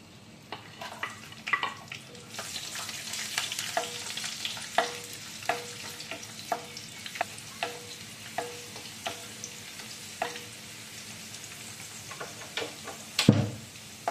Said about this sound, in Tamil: அடுத்து இந்த கிஸ்மிஸை வறுத்து எடுத்துக்கலாம்.